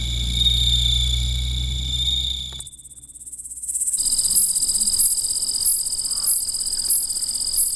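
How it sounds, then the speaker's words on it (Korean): Bell crickets chirp at night in grass and forest, a high ringing trill that breaks off and then resumes as a bright, evenly pulsed chorus, loud and close over a low hum. "밤이면 낭낭한 소리로 우는 방울벌레"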